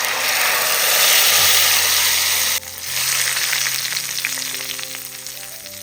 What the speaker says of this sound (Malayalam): ഇതെല്ലാം മൂത്ത് നല്ലൊരു മണം വരുന്ന സമയത്ത് നമ്മൾ അടിച്ചു വെച്ചിരിക്കുന്ന തക്കാളി ഇതിലേക്ക് അങ്ങ് ഒഴിച്ചു കൊടുക്കാം